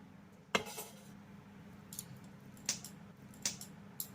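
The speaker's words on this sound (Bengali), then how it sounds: "ঢাকাটা তুলে নিচ্ছি" A lid is lifted off a pot in a quiet kitchen, giving a few soft metallic clinks and taps, one sharper at the start and two lighter ones later, over faint room hum.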